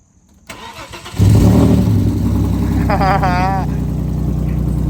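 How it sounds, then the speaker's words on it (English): An Audi A4 B6 with a 3.0 engine and straight-pipe exhaust cranks and fires up, the loud, raw engine settling into a steady rumbling idle close by, with a brief voice and a warbling electronic alarm tone partway through. "James, go ahead and start your car, bud."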